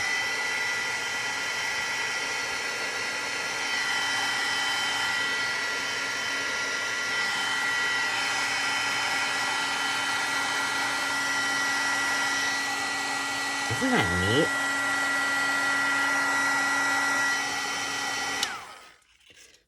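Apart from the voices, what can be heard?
heat tool drying a craft project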